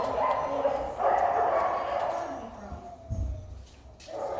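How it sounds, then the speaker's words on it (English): An excited, worked-up dog yips and whimpers in short bursts, close by over a busy background with some voice-like sound mixed in. "The dog's getting real amped up, real excited and crazy"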